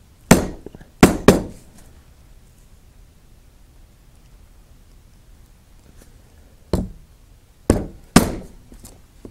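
A light maul strikes a leather bag punch chisel while slotting a leather guitar strap: about seven sharp, close knocks, spaced singly and in quick pairs, against a quiet room.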